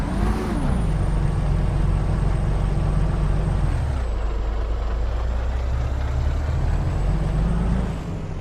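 A Western Star 4800 truck engine in American Truck Simulator drones loudly and steadily, its revs sagging midway and climbing again near the end, with no talk over it.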